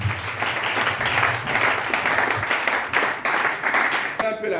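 A church congregation claps together in a burst of applause, close and fairly loud, with the clapping going on for several seconds and a few voices mixed in.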